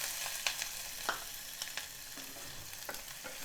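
Chopped onion hits hot oil already popping with mustard and cumin seeds. A steady close sizzle carries sharp crackles and pops at irregular intervals, with no voices.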